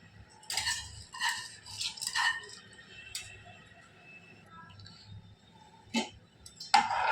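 A spoon stirs rice in milk in a cooking pot, giving a few scattered metallic clinks and scrapes against the pot, close by and fairly quiet.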